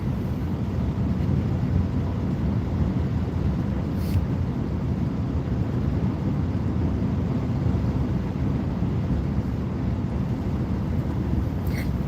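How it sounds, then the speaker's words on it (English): Wind blows across open countryside after a light snowfall, a constant low rumbling roar buffeting the microphone, steady and loud with no talk. "But we're out here in the country, so pretty windy."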